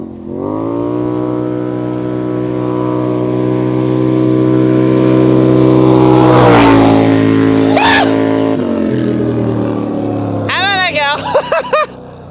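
A 90 hp, 400 kg quad bike engine idles with a deep, steady rumble that swells as it revs up, close and loud, with brief sharp revs near the end and people talking over it.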